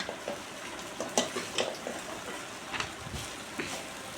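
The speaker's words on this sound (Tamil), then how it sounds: "எல்லா ரைஸும் அந்த மசாலாவும் சிக்கன்லேயும் படுற அளவுக்கு நல்லா கிளறி விட்ட பிறகு நாம் ப்ரிப்ரேஷனை முடிக்கிறோம்." Chicken rice tossed with masala is stirred in a pan, a low crackling sizzle with repeated scraping and rustling strokes of the spoon through the grains, fairly quiet and without speech.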